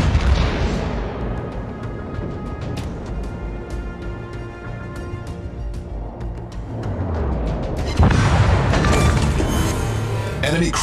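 Warship gunfire from the battleship Vermont in World of Warships, heavy booming salvos over a constant dense roar of battle, with a louder burst of fire near the end.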